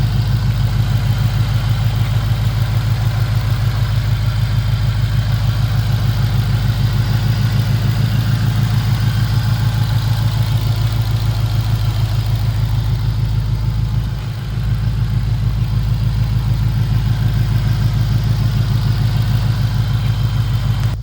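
A 2022 Shelby GT500 engine runs with the hood open, a loud, steady, deep idle rumble with a faint rhythmic pulse that carries on unbroken, with no talk over it.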